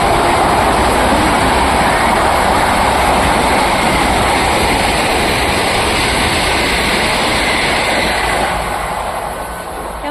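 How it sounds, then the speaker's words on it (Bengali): A Vande Bharat express train rumbles past close by, a loud continuous roar with rattling wheels that begins to fade slightly toward the end. "বন্দে ভারত গেল এটা ওই ট্রেনটা ওই যে দূরে চলে যাচ্ছে"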